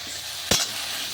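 Ridge gourd and potato with onion fry in oil, giving a steady soft sizzle broken by one brief louder hiss or splash midway.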